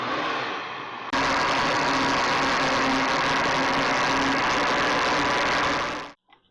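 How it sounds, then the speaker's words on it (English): A blender whirring through cottage cheese pancake batter, a loud, steady motor roar that kicks up sharply after a quieter start, holds for about five seconds, then winds down and stops. "You can also blend it on any speed you like"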